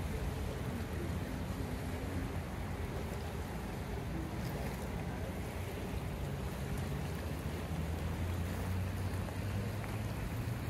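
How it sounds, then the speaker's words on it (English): Low steady wash of water lapping at the shore in Cathedral Park, Portland, Oregon, with wind rumble and hiss, continuous and fairly faint, a calm lapping ambience with no talking. "You can hear the water peacefully behind us."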